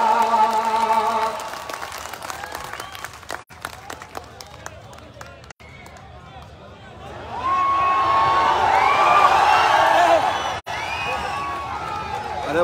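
A large audience at a nazm poetry recital in Bhopal breaks into sustained clapping and cheering, loud and continuous in the second half, with a voice speaking over the start.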